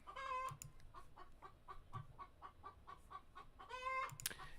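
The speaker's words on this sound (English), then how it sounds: "If you hear chicken in the backgrounds, those are my chicken." Backyard chickens cluck repeatedly in short rhythmic bursts, with a louder squawking cackle near the start and again near the end, fairly close and moderately quiet, with no talking.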